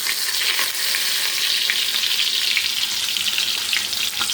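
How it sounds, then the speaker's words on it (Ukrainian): Steady, close sizzling of thin, pounded, batter-coated cutlets frying in a hot pan, a dense crackle with occasional sharper pops, no voices. "Зараз буду перегортати, вони дуже швидко смажаться."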